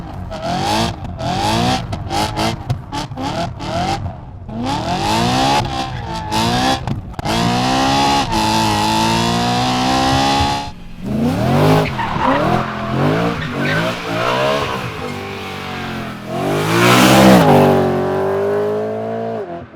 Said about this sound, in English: There's something about this car, the screaming V8.